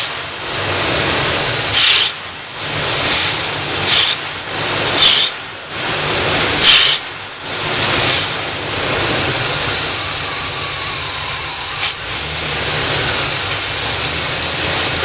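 A 1978 Oldsmobile 403 V8 in a classic G-body car idles cold on fast idle, with a steady loud rushing roar that swells and dips in a loose rhythm, heard close up.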